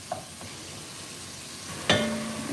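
Oxtail meat sizzling in a pan on high heat, a steady crackling fry throughout with a sudden louder hiss and stir about two-thirds through, close and without talk.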